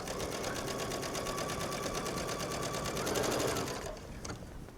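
A sewing machine stitches around a silk chiffon sleeve with a steady, rapid mechanical whir at close range, then slows and stops in the final second.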